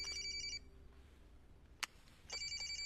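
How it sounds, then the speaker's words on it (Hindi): A mobile phone lying outside rings with an incoming call, repeated electronic ringtone bursts at a distance in a quiet room, with a short gap and a faint click between rings. "किसी का कॉल आ रहा था, फोन बाहर पड़ा था।"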